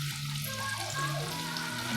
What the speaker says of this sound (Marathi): तेल गरम झाले, कांदा टाकू ह्याच्यात आता आपण.